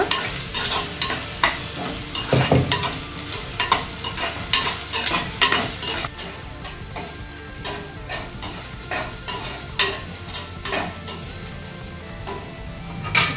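Prawns sautéing in a pan for prawn thokku: a steady sizzle broken by repeated scraping and stirring strokes of a utensil against the pan, close and fairly loud, with no talk.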